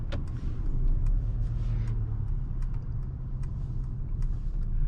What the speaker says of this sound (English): So you can actually have the sport sound as well.